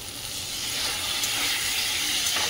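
A little water is poured into a cooking pan holding green chilli and ginger paste, making a soft, continuous splashing wash with a faint sizzle, close and steady throughout.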